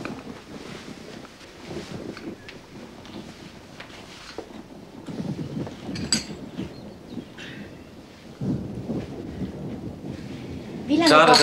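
A low rumble of thunder rolls beneath steady rain in a 1980 German stage comedy, with occasional clinks and a sharper crackle near the end.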